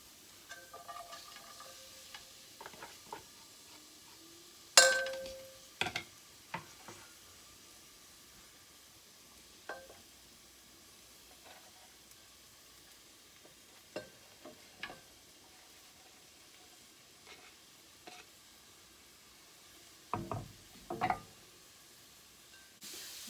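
Chopped garlic being stirred in a pan for frozen iftar food, with faint sizzling under occasional scraping and clinking knocks of a utensil against the pan at irregular intervals.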